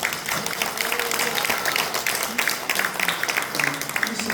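Audience applause for a pastor at a pastors' seminar in a church hall, a steady dense patter of many hands clapping throughout, with voices faintly mixed in.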